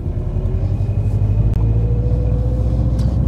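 Subaru Forester STI SG9 driving on the road, a constant, loud low engine rumble with road noise heard from inside the car, with one brief click partway through.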